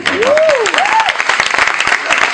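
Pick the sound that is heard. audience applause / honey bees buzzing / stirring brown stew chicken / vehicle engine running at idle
audience applause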